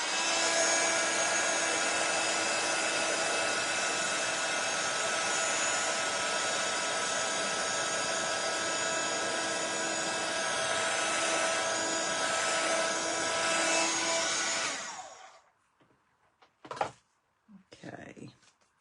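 A heat gun blows a loud, steady roar for about fifteen seconds while melting embossing powder on paper, then cuts off abruptly, leaving a few faint knocks and handling sounds.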